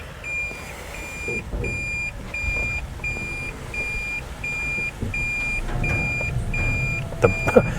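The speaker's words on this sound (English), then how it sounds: "so she beeps in reverse." A vehicle's reversing alarm beeps steadily at a regular pace over a low idling engine rumble, with a few louder clunks near the end.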